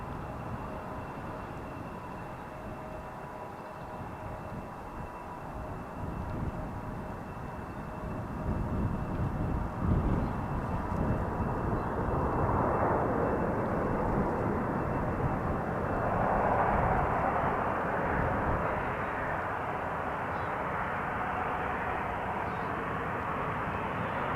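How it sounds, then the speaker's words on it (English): Lufthansa Airbus A319 arriving from Frankfurt to land at Amsterdam Schiphol on the Polderbaan runway, a moderate jet roar swelling gradually from a distance and holding steady, with a faint continuous tone over wind noise. "Here is the Lufthansa coming in from Frankfurt, the Airbus"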